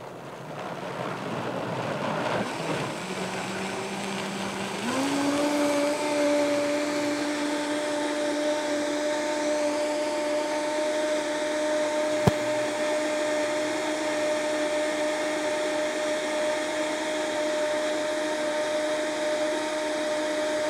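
A Vitamix blender heats tortilla soup, its motor roaring loud and steady, the pitch rising to a higher whine a few seconds in and then holding a continuous, even drone, no talking.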